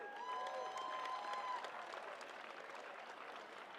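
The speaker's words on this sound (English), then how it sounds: "Give it up for our athletes." An audience claps and cheers for youth climbers at a national lead championship final, a dense, sustained burst of applause that fades slightly toward the end, with whistles early on.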